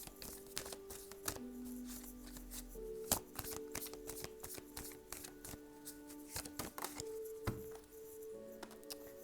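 Tarot cards are shuffled and drawn close up in a quiet room, with repeated crisp riffles, flicks and sharp snaps of card edges at an uneven pace, and no voices.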